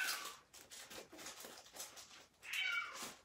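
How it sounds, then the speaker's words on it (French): A small cat meows indoors, with two clear, fairly close meows at the start and near the end, separated by quieter rustling and handling sounds. "Petit chat, hein?"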